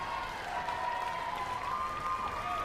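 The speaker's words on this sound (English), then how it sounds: "So Culler's going to get a nice round of applause." Crowd applauding at a Little League baseball game between Nolensville, Tennessee and Columbus, Georgia, a faint, steady patter of clapping heard from a distance with a tonal hum beneath it.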